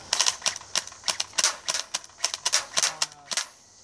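An airsoft MP5 fires a string of sharp semi-automatic snaps at a sign outdoors, shots coming in uneven bursts at close range, with no talk over them.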